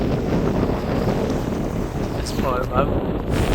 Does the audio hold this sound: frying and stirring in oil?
no